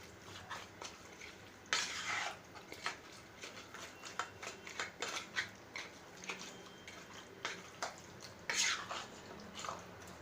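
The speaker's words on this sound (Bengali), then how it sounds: "দিয়ে দিব সামান্য তেল দিয়ে এটাকে ভালোভাবে মিক্স করে নিতে হবে" Beef being mixed by hand with salt and a little oil for storage, soft wet squelching and clinking in an irregular rhythm, quiet and close, with a couple of louder scrapes.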